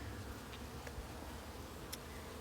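Honeybees hum steadily around a hive in early spring while workers bring in maple pollen, a faint, continuous drone with a few brief sharper wingbeat passes and no talking.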